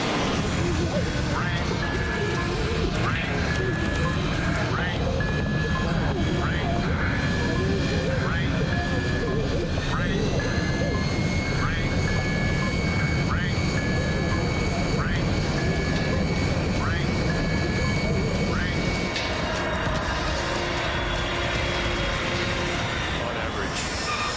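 A sustained, loud roar fills the cabin of an airliner flying through a volcanic ash cloud that has blasted the cockpit window. A repeating beeping alarm sounds over it, and voices talk throughout.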